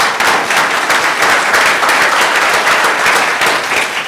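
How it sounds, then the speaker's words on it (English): Dense, loud applause from a meeting audience at a wireless technology forum, honoring the evening's sponsor; steady clapping fills the whole stretch with no voices over it. "How about a clap for Verima?"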